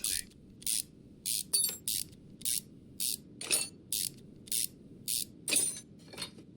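Ratchet wrench unscrewing bolts on a car in Car Mechanic Simulator 2021, heard as short rapid clicking bursts repeating about a dozen times in a steady rhythm, close and clear over a low background hum.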